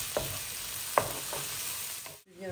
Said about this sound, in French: Maintenant, je peux rajouter mes crevettes.